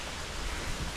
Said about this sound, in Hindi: ज़बरदस्त बारिश शुरू हो रखी है।